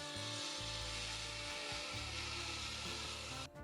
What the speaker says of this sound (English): turn the saw on, and gradually raise the blade until it cuts through the workpiece